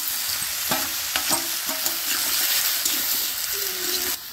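Bottle gourd with ground onion, garlic, mustard paste, turmeric and chilli being stirred in a frying pan, a steady sizzle broken by repeated scraping strokes of the spoon, close and fairly loud.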